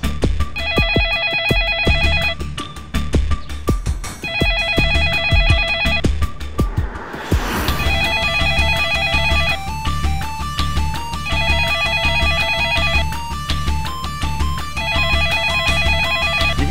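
A telephone rings on and off without being answered, repeated bursts of electronic trilling separated by short gaps, loud and close, with a brief rustling noise partway through.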